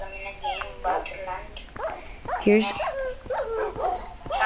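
Several Minecraft dogs yip, bark and whimper in a quick, uneven run of short cries, close and fairly clear, while a person speaks over them.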